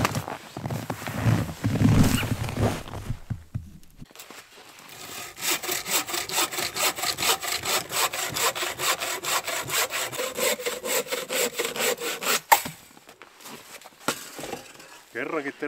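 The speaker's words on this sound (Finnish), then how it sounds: "Kerrankin terävä saha." A sharp hand saw cuts through firewood outdoors on a freezing winter morning, with steady back-and-forth strokes repeating quickly and loudly for about eight seconds after some handling noise.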